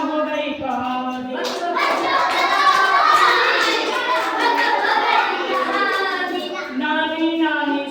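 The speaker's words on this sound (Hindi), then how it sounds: "बच्चों बजाओ ताली खत्म हो गई कहानी" Children clap their hands together in a dense burst of applause at the end of a Hindi class-2 poem recitation, with young voices chanting before and after the clapping.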